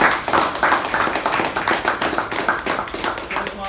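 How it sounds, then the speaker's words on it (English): A loud round of applause at a Toastmasters club meeting, with brisk, rhythmic clapping from a small group close by that keeps an even pace and holds its strength throughout. "Can we have a loud round of applause for Toastmasters?"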